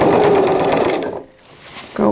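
A sewing machine runs in a fast, buzzing burst while stitching elastic onto a cloth diaper, pauses briefly, then starts again, close and loud with no talking.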